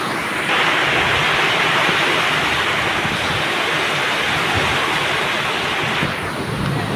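Heavy rain pouring down, a loud dense wash of steady roaring noise filling the whole stretch without break.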